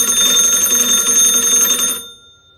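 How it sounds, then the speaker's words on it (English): A century-old telephone's bell rings loudly and close, triggered by a wireless doorbell, a continuous metallic trill lasting about two seconds before cutting off abruptly into a brief fading tail. "wouldn't it be great when somebody rings the doorbell if it instead rang the phone?"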